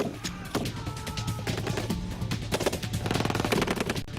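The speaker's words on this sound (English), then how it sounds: "Grenades, machine gun fire, mortars are coming into the action now." Sustained machine gun fire rattles in fast continuous bursts, loud and close, mixed with mechanical clatter from a Korean War combat scene at Kimpo airfield.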